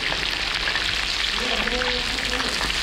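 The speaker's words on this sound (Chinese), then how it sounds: "现在我们准备把这个肥肠给它拿来炸一下" Pork intestines deep-frying in oil give a steady, close, dense sizzling hiss that runs unbroken throughout, with a voice speaking briefly over it partway through.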